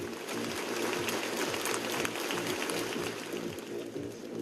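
Applause from a congregation at a memorial service in Manchester Cathedral, a dense, steady clapping that fills the space throughout, with a faint underlying musical or vocal tone beneath it.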